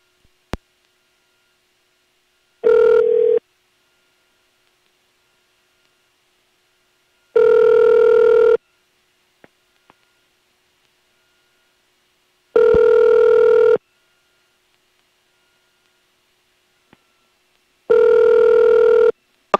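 Telephone ringback tone on an unanswered call to clearance delivery, four evenly spaced long rings with quiet gaps between them, clear and alone.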